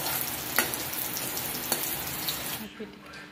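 Garlic and onion frying together in a pan, a steady close sizzle with a couple of sharp clatters of stirring, cutting off near the end to quieter kitchen background.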